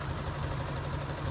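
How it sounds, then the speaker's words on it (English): Engine of a 1990 Oldsmobile Custom Cruiser idling with a slight lower-end crankcase knock and belt noise, a steady close mechanical drone with no pauses or voices. "a slight knock in the lower end of the crankcase"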